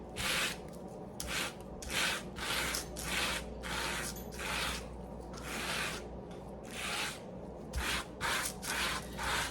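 Plaster is rubbed across a tabletop in repeated horizontal strokes for a faux linen finish, a rhythmic series of close scratchy swishes about once per half second with short pauses between them.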